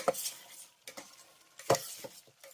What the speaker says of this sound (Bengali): এবার ভালো করে একবার নেড়ে চেড়ে নেব